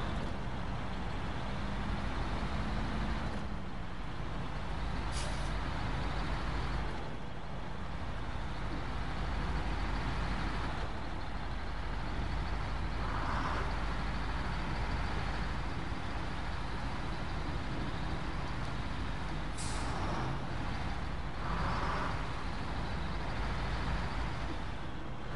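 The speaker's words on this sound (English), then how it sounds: "This truck does not handle well on the mud." A road truck in the video game SnowRunner grinds through mud, its engine droning steadily and loudly for the whole stretch with occasional thumps and brief sharp clanks.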